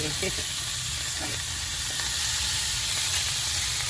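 Chicken sizzles in a pan with a steady, dense frying hiss throughout, broken by a couple of soft scraping knocks early on as a piece is flipped. No one speaks.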